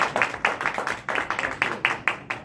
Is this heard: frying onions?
no